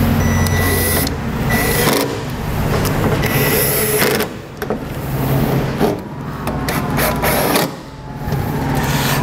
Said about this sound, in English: and reinstall our screws.